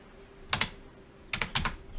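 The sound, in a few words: computer keyboard typing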